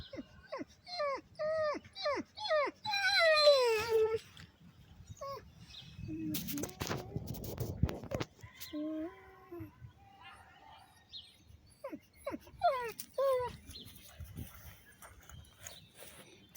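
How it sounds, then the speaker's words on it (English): Dog whimpering and yelping in a series of short, high, repeated cries, with a burst of rustling noise midway and faint people talking in the background. "There's the dog we let run free."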